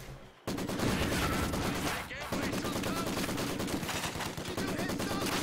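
Video game MG42 machine gun firing incendiary rounds at a Maxim: a dense, continuous stream of rapid automatic fire roars on almost without pause, loud and close, with a brief dip partway through.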